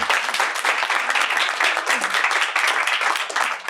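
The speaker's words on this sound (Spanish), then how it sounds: "Qué buena niña, un aplauso." Steady audience applause at a health talk on controlling blood sugar, a dense crowd clapping evenly and loudly throughout without pause, with faint voices underneath.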